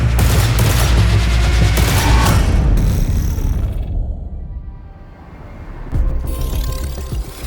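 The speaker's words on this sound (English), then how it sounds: "just pop out the D54 battle pistol and you are just ready to go" D54 battle pistol gunfire in the shooter game Marathon: loud, rapid sharp shots and bursts dominate the opening seconds, fade into a quieter lull, then return with a few more cracks at the close.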